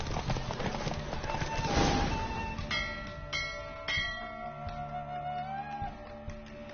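Horse hooves clop in The Witcher 3 game, a run of distinct hoof beats over bell-like musical tones and a sustained melodic score, moderately loud with no talk.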